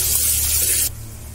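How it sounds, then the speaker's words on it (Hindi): Onions sizzle in a shallow layer of oil in a pan over lowered heat, a bright steady hiss that drops suddenly to a softer, quieter sizzle partway through. "आँच को करते हैं कम और हम प्याज को भून लेते हैं अच्छी तरीके से"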